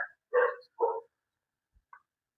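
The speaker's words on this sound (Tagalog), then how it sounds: "yung problema natin sa mga aso" Dogs barking near government relocation housing in the Philippines: two or three sharp, close barks in quick succession, then a faint yip after a pause.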